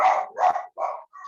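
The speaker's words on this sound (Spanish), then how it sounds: "Los perritos." Dogs barking in a quick series of four close, sharp barks with short gaps between them, loud and clear with no talking.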